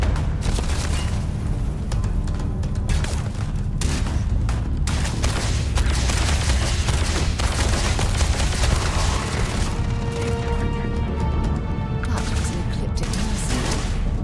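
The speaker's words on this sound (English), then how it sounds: "You're not worried about those explosions?" Repeated booming blasts and crashes from explosions in the video game Starfield, loud and irregular, rolling one after another over a dense rumbling background.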